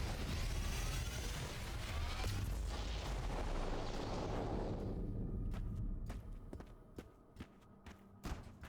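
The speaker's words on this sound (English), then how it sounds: "Can I just try dropping a power bomb" A power bomb in Metroid Prime 4: Beyond detonates with a loud, swelling roar that fills the first five seconds, then decays into a quieter tail punctuated by sharp clicks and taps.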